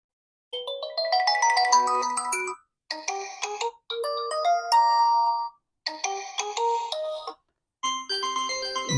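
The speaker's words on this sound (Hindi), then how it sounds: "नेक्स्ट हम इसकी साउंड देखते हैं कि साउंड कैसी है फ़ोन की।" Melodic electronic ringtone from an Itel P65c phone, playing in repeated bright chiming phrases separated by short pauses, clear and fairly loud with no talking.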